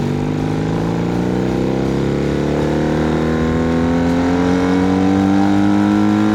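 A 1980 Honda CB 400 N set up as a scrambler roars at nearly full throttle, a loud steady engine drone that rises slowly in pitch with rushing wind, and no voices.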